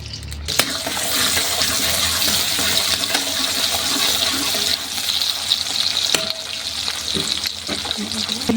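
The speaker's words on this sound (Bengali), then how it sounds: "পেঁয়াজ কুচি দিলাম" Chopped onion sizzles in hot oil with whole cumin for a Bengali rui fish bhuna, a steady close frying hiss broken by occasional clicks and stirring scrapes.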